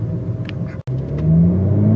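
A 2021 BMW M4 Competition engine rumbling low, then swelling into a rising rev, loud and close with a brief cut partway through.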